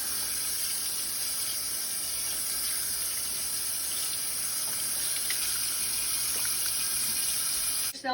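Water running steadily from a tap into a sink while hands are rinsed, a continuous close hiss that cuts off at the very end.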